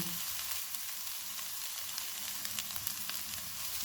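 Boiled, mashed potatoes with fresh coriander and salt fry in a pan, giving a steady close sizzle with scattered crisp crackles and light stirring.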